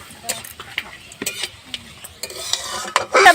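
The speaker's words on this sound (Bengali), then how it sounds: "ফোড়নটা 2 সেকেন্ডের জন্য ভাজা করে নিয়ে এবার একটা তেজপাতা দেব।" A tempering of dried chillies and a bay leaf fries in hot oil for a duck curry, with bursts of crackling sizzle mixed with scattered utensil clicks and taps that grow louder toward the end.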